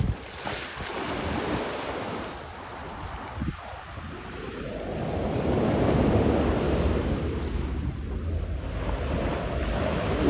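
Ocean waves wash onto the beach at Kaanapali, Maui, a rolling surf that swells and recedes in long surges, mixed with gusty wind buffeting the microphone, and no voices.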